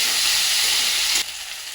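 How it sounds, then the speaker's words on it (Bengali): Onion and tomato fry in a pan with a steady, loud hiss of sizzling oil that drops in level partway through, and no voices are heard. "টমেটো আর পেঁয়াজটাকে ভালো করে ভেজে নেবো"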